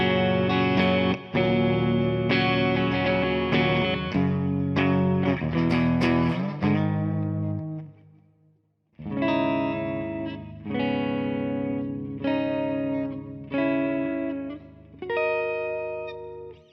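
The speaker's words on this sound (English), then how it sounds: "let's see what the amp sounds like before we turn this thing on" Electric guitar played through an amplifier with a distorted, chorused tone, before a Horizon Devices Flux Echo pedal is switched on: sustained chords and riffs, a short pause, then more strummed phrases.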